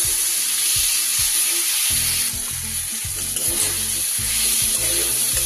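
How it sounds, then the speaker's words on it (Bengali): Chopped tomato and green peas frying over lowered heat in a pan while being stirred; a constant loud sizzle with rhythmic scraping and knocking of the spatula up close. "গ্যাস কমিয়ে নিয়ে কিন্তু আমি সবজিগুলোকে এইভাবে নাড়াচাড়া করে নিচ্ছি।"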